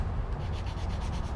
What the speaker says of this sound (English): I got some 180 sandpaper on a regular sanding block here, and I'm just gonna shape it a little bit more.